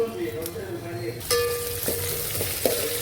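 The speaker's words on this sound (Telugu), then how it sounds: "ఆయిల్ వేడెక్కిందండి. మెంతులు, ఆవాలు, కొంచెం జీలకర్ర అండి." Fenugreek, mustard and cumin seeds hit hot oil for a tempering, and the frying hiss swells partway through while a person keeps talking over the steady sizzle, with a faint pop or two.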